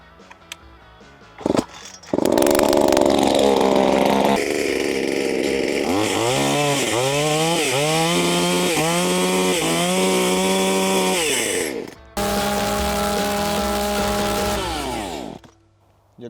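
An EMAS 2511 petrol chainsaw, started on choke, sputters to life and revs loudly up close, its whine rising and falling several times, then cuts out briefly and restarts at a steady idle.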